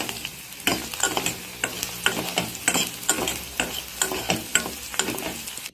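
Garlic cloves sautéing in oil in a pan, a steady close sizzle broken by a regular run of scraping stirs from a spatula, no voices.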